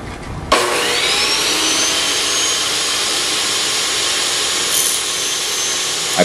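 Table saw fitted with an aluminum cutting blade roars to life and slices through aluminum angle brackets, a loud, steady high-pitched screeching whine held close throughout after a sudden start.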